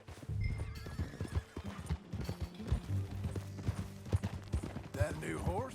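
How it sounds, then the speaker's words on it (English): Horses in the Red Dead Redemption 2 video game clip-clop along with repeated hoofbeats, and a loud whinny rises near the end, while game characters talk over the steady trotting. "Get on your horse, John"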